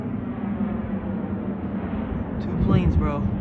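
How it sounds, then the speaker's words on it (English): An American Airlines Airbus A319-132 jet arriving overhead at DFW Airport gives a steady, loud, broad roar throughout. A voice speaks briefly near the end. "We got another turning American Airlines Airbus A319-132 arriving in DFW Airport."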